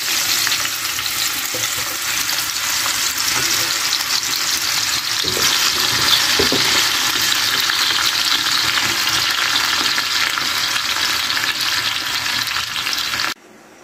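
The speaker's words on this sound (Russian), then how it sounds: "Начинаем жарить грибочки." Steady, dense sizzling of mushrooms frying in a hot pan, continuous and close, with occasional soft stirring clatter and no voices.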